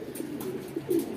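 Domestic pigeons coo softly in a loft, a couple of low, throaty rolling calls close by over faint background noise.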